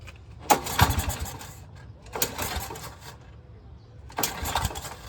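A small engine of a 1983 Honda 185S motorcycle revving in three repeated bursts, rising and falling with the throttle, over a steady idling rumble.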